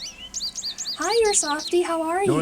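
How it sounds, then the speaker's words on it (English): American goldfinch call played from a cassette tape in the Nancy Drew game Ghost Dogs of Moon Lake: a few high chirps open, then a person talks over and after the bird notes. "American goldfinch."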